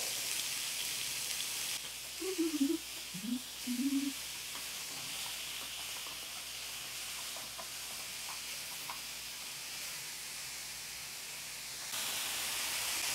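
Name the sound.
chicken frying in pan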